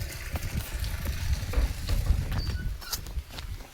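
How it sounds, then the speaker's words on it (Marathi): Water pours steadily into a village pool stocked with fish, a continuous rushing hiss with a low churning rumble, close by and unbroken. "आणि मस्त पाणी येते."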